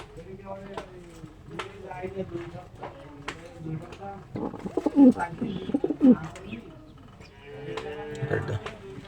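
Pigeons of an old Dhaka generation breed coo in soft, repeated throaty calls close by, with a person talking over them throughout.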